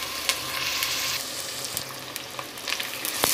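Onions fry in oil in a deep cooking pot for a Pakistani cabbage and chicken recipe, with a loud, steady sizzle throughout, broken by a few sharp clinks and scrapes of stirring, and no voices.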